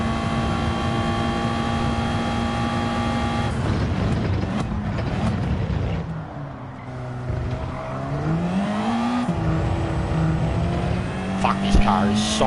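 A race car engine drones in a racing video game, its pitch sliding up and down through gear changes as someone talks over the steady, loud engine note.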